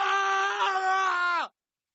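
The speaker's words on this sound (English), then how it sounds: "It's a screaming man." A screaming man sound effect played from streaming software: one loud, sustained anguished wail lasting about a second and a half, then cutting off abruptly into silence.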